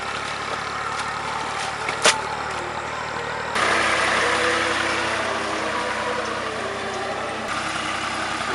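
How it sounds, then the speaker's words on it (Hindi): A tractor engine runs steadily in a rice field, a continuous mid-pitched rumble with a brief sharp clank early on, growing slightly louder and rougher midway, with no talk. "तो अब ये ट्रैक्टर का लास्ट या सेकंड लास्ट चक्कर, इसको अब खेत में से बाहर निकालेंगे"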